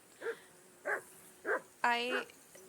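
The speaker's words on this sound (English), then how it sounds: "Could the dog please just calm down for a sec?" A dog barking in Kingdom Come: Deliverance 2, four clear barks at an even pace, the last one longer and more drawn out, close by against a quiet background.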